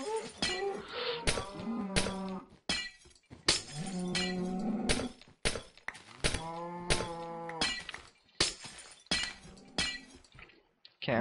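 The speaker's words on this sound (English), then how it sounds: "No, cows!" Minecraft cows moo repeatedly in low, drawn-out calls, several of them overlapping, interleaved with sharp breaking and shattering sounds, all fairly close and without talk.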